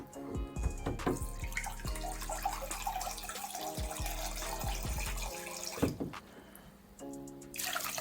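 Sea moss being washed in water, with running tap water, splashing and dripping in a sink, steady handling of the moss and occasional louder knocks and sloshes.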